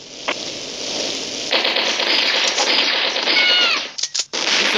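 Automatic fire from twin Uzi submachine guns in a multiplayer shooter video game, a dense crackling stream of shots running for several seconds, loud and close, briefly cutting out near the end before resuming.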